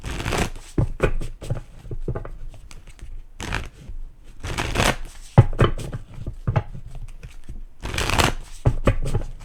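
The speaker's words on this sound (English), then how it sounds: "Let's pull some tarot cards for you guys." Tarot cards being shuffled up close in quick riffling bursts, separated by short pauses and light tapping of the deck, with no voices.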